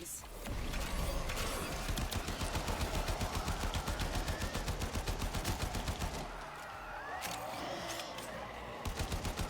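Rapid rifle gunfire in the Warframe video game, dense automatic bursts of sharp shots repeating steadily and loudly, with a brief pause before firing resumes.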